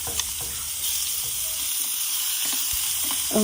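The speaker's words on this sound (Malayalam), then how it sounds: "കടുകെല്ലാം പൊട്ടിക്കഴിഞ്ഞതിന് ശേഷം നമ്മൾ ചതച്ച് വെച്ചിട്ടുള്ള ആ ഒരു വെളുത്തുള്ളി കൊച്ചുള്ളി പിന്നെ കറിവേപ്പില മിക്സ് ഇതിലേക്ക് ചേർക്കണം" Crushed garlic, shallots and curry leaves hit hot oil in a Kerala-style kitchen, giving a steady, close sizzle with a few faint clinks of stirring and no voices.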